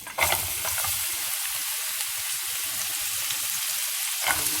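Onions sizzle in hot oil in a pan, frying for a bacon, potato and cherry tomato frittata. A steady close hiss runs throughout, with a stir-like clatter at the start and again near the end.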